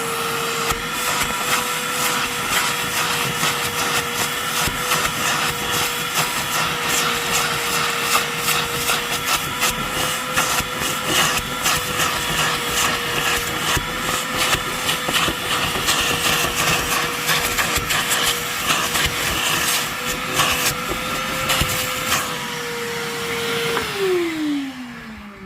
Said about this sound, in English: So maybe try a little shop vac.